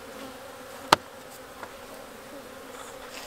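Honeybees hum faintly and steadily around an opened hive, with one sharp click near the start and no talking.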